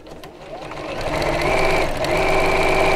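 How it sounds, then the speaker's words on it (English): A sewing machine hums continuously as it sews around a quilted project with wadding, a steady close mechanical whir with rapid rhythmic stitching that builds slightly in loudness and runs uninterrupted. "And then we'll sew all the way around."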